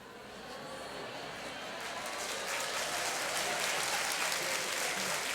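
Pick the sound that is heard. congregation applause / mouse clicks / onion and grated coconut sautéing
congregation applause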